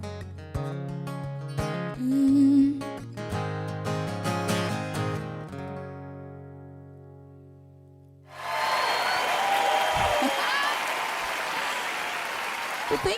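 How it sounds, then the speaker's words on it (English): Applause from a live-streamed show audience, following a stretch of music, then a dense, sustained clapping that fills the last five seconds at even strength. "can we keep the applause going for Steve over here in Mission Control?"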